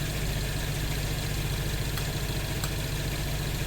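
A Honda CB200 motorcycle engine running after a fresh rebuild with new piston rings, a steady low rumbling idle close by, dense and continuous for the whole stretch with no talk over it.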